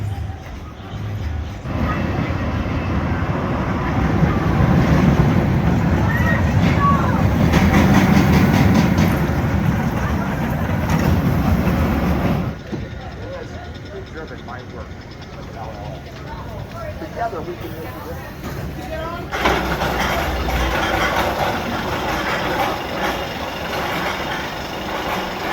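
Roller coaster ride at Kings Dominion amusement park: a loud, sustained rushing rumble of the train on its track, dropping to quieter clattering midway before surging again, with voices speaking throughout.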